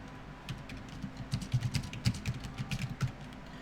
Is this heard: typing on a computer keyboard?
yes